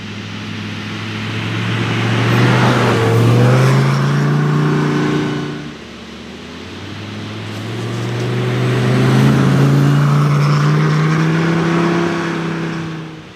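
A Lamborghini on Pirelli winter tires drives through a snowstorm in Summit County, Utah, its engine swelling through two long acceleration runs with a dip between them, loud and close, no voices.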